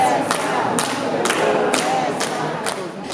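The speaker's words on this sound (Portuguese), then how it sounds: "Na plateia, adultos e crianças batem palmas." Theater audience of adults and children clapping together in rhythmic, evenly spaced bursts, loud and close, with crowd voices mixed in.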